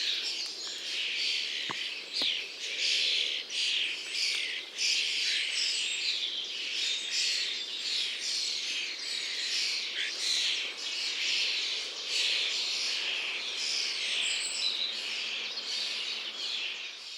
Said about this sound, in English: Starlings also engage in a lot of chatter back and forth to each other